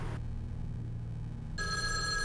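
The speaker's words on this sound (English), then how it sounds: "It rings. A lady answers the phone." A telephone rings on the other end of a call placed to a nursing home in Albany, heard as a steady electronic ring tone starting after a short pause of line hiss, moderately loud with no talk.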